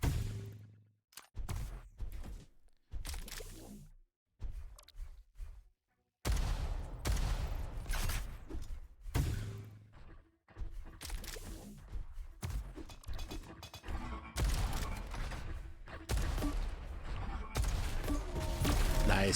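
Rapid exchange of rocket blasts and shotgun fire in an amateur cup match of an arena shooter, bursts of explosive shots in quick clusters separated by short pauses, loud and close, with some voice mixed in.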